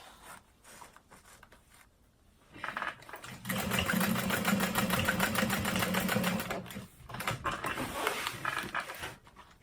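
Close sewing machine top stitching a handbag, starting with quiet handling and rustling, then a steady buzzing run of stitches for several seconds that tapers into short bursts.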